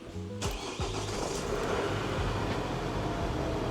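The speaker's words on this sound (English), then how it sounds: "All right, let's see if it fires up." A Nissan Navara diesel pickup engine, overdue for service, cranks briefly, catches with a sharp burst, and settles into a rough, loud running rumble close by.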